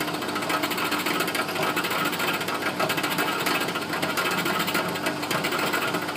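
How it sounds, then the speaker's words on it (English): A milling machine drills slowly through a metal workpiece, giving a loud, steady, buzzing mechanical whir with a rapid rattling texture that holds unbroken throughout, close up and with no voices. "So you drill slowly, drill through."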